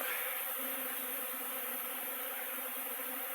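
Buckfast honey bees flying around an apiary, a steady, dense buzzing hum that holds level throughout with no voices.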